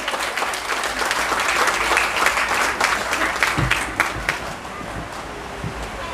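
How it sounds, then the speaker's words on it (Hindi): A hall audience at a Bharthwal Kutumb foundation day gathering in Garhwal Bhawan applauds to welcome a speaker, with dense, continuous clapping from many hands that swells, then thins slightly toward the end. "कृपया स्वागत कीजिए इनका तालियों के साथ में"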